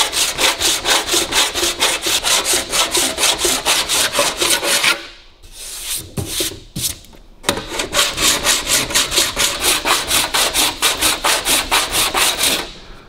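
Fine-tooth hand saw cutting alloy metal on a 1932 Lincoln KA body, with steady rhythmic rasping strokes, loud and close, a short pause midway, then more strokes.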